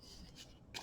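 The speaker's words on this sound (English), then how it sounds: "Cut out the square at an angle" Paper for a handmade Love You Forever mini album being snipped with scissors, a square cut out at an angle, giving a soft close rasp of blades, quiet at first, then a brighter crisp cut near the end.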